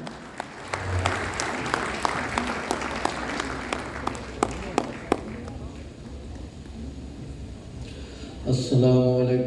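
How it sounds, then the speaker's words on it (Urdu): Audience applause at a mushaera poetry gathering, dense clapping from a crowd that fades over several seconds before a voice begins speaking near the end. "آپ سب کی بھرپور تالیوں میں"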